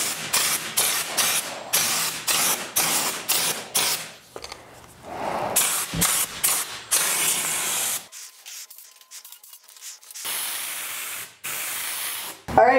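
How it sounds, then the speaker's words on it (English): Repeated bursts of hissing spray from a paint sprayer spraying milk paint, short even pulses with brief pauses, then longer continuous sprays, close and fairly loud. "It's spraying really nice now"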